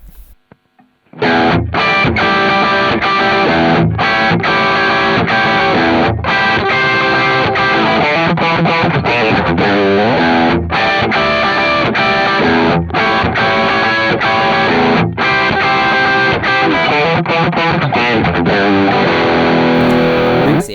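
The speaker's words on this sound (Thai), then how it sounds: "ก็คือเอฟเฟกประเภทเสียงแตก" Electric guitar played through a heavy distortion effect in the Zoom Guitar Lab app, a thick crunchy tone with chords and riffs ringing continuously after a brief quiet start.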